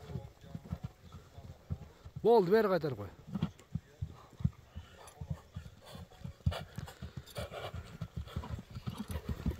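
A light, quick-footed horse at a livestock sale clops its hooves in a steady run of taps while several people talk over it and a brief whinny-like cry rises near the start.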